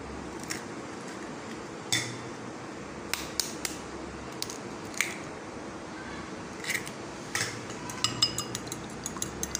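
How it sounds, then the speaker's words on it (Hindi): Two eggs are beaten in a bowl, and a utensil clicks sharply against the rim and sides in irregular taps over a low steady background, close and fairly quiet. "एक प्याला लेंगे, उसमें 2 अंडे फेंटेंगे।"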